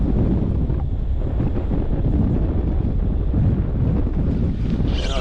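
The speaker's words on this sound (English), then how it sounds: "A bit windier than I actually expected." Strong, steady wind roaring over the microphone on a small fishing boat in the Moreton Bay shallows, loud and continuous with faint water wash beneath.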